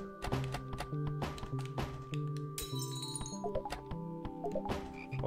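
Frogs croaking in the game House, repeated close croaks alongside glassy clinks and taps, with no talking.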